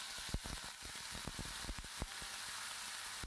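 Boiled radish stalks land in a pan of fried dry chilies and nigella (black cumin) seeds, giving a steady, close sizzle of frying oil dotted with quick crackles and pops.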